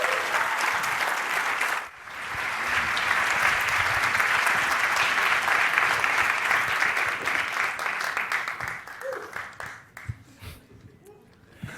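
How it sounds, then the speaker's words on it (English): Sustained audience applause at an awards event, a dense wash of many hands clapping loudly for about ten seconds, thinning and fading toward the end with a few scattered claps. "a warm round of applause for Fernando and Anselmo."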